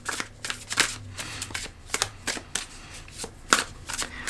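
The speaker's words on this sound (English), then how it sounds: "I'm going to pull cards to see what else wants to come through for this message" Tarot cards being shuffled close up, a soft papery riffling and shuffling with repeated brisk bursts and taps, no voices.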